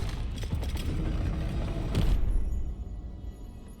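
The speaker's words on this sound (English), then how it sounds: "I'm gonna open this door." A heavy door creaks and grinds open in Baldur's Gate 3, a mechanical rumbling swell that peaks then fades into quiet.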